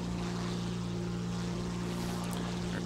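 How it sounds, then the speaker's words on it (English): Twin piston engines of an F7F-1 Tigercat fighter in War Thunder drone steadily and loudly, a constant propeller hum with no break and no talk. "The engines, even though there are only two, they're really powerful."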